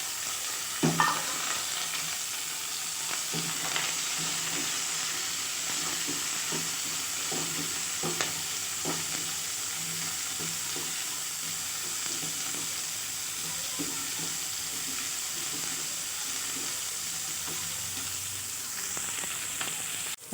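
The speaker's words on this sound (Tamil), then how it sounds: "வெங்காயம் நல்லா வதங்கிருச்சு." Small onions and garlic cloves fry steadily in a pan with a continuous close sizzle, broken by occasional stirring scrapes and clicks throughout.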